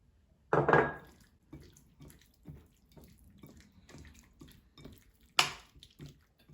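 Raw chicken mixed by hand with egg and potato starch for crispy sweet chilli chicken: a sharp wet splat, then a run of soft squelching, slapping strokes and another loud slap near the end.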